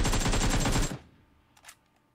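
Fast fully automatic burst from an AKM rifle in the mobile shooter PUBG Mobile, roughly a dozen loud, evenly spaced shots in under a second, then a short decaying tail and a faint click.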